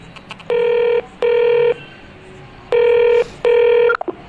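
Four steady electronic tones sound in two pairs, each about half a second long, like a phone ringing on an outgoing call, with brief clicks around them.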